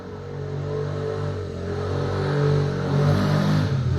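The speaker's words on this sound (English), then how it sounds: "never heard a ped being ridden so badly in my life." A moped ridden nearby and revved roughly, its engine holding a loud, strained drone that rises and swells unevenly over four seconds.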